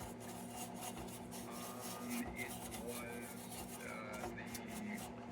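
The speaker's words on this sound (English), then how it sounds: "So I will continue with the Dremel to get that off of there." A Dremel rotary tool grinds on a part of an Embury No.10 Supreme hot blast lantern, a steady, fairly faint motor whine with scratchy grinding running through the whole stretch.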